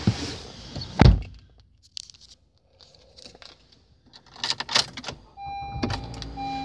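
Someone gets into a 2015 Honda Accord LX: a solid door thunk, rustling as they settle into the seat, a few small clicks, then the engine turns over and settles into a steady idle alongside soft electronic chimes.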